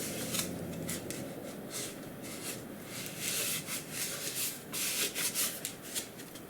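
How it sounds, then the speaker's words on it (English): An old sock used as a cloth rubs excess off a knife sheath, a steady close brushing and swishing that swells in soft pulses, with no talk. "we rub it off with a cloth. This is an old sock, it's very useful for this task"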